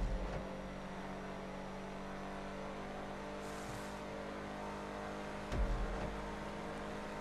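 Canis Freecrawler off-road vehicle driven in GTA 5, a steady engine drone with a brief rev swell near the end, alone without voices.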